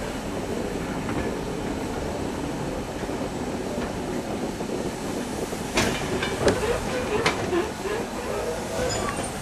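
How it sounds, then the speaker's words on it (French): A locomotive on a single-track railway in Scotland rolls over a switch, with a steady rumbling run and a few sharp clacks of wheels on the points partway through. "La loco va faire l'aiguillage."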